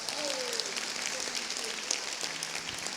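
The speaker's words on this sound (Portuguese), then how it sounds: "Vamos aplaudir o Wellington, Raíssa" Sustained applause from a church congregation fills the room for a newly married couple, a dense, even wash of clapping that holds steady for a few seconds without speech over it.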